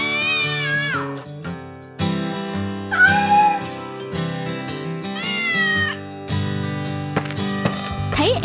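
A cat meows repeatedly in a home, several drawn-out rising and falling cries spaced a second or so apart, close and clear against a soft background with no talk.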